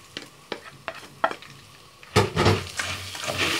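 Pasta fries in a wide pot with salt and green pepper while being stirred; a few light clicks come first, then a louder burst of sizzling and scraping continues close by, with no voices.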